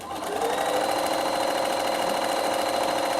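A sewing machine top stitching along fabric runs in one steady, close, loud mechanical whir after a quick start-up, with no voices.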